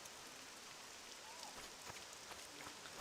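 Soft, steady rainfall patters in the game Morrowind, a faint, even hiss of drops with a few slightly sharper taps scattered through it.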